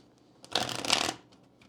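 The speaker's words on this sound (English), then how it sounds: "let's go ahead and get a shuffle in here" A deck of Kipper cards is riffled in one short, crisp burst of papery fluttering, close and clear, lasting about half a second against quiet.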